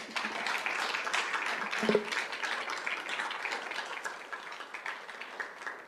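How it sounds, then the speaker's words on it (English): Audience applause at a Peoria Unified school governing board meeting fills the room as a steady, dense wash of clapping that stays even and moderately loud from start to finish. "we want to have them stand so we can give them a big round of applause as well"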